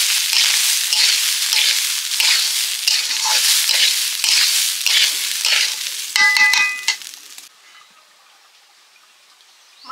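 Coated rice tipped into a pan of ghee and stirred, giving a bright, loud crackling sizzle with rhythmic scraping strokes, then a brief metallic clatter before the sound drops away to near silence.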